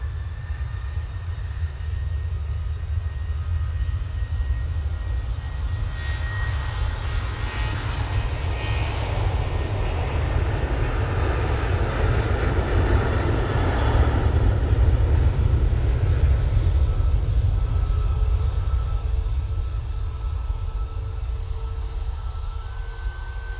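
An airliner departing for Olbia roars on its takeoff run, a loud, steady, broadband engine rumble with rising whine that holds for over twenty seconds, heard from nearby without voices.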